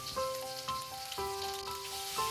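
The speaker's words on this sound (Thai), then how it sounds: "ผัดพริกแกงให้มันหอมก่อน" Quiet sizzling from red curry paste frying in a pan, with soft tonal sounds running alongside it.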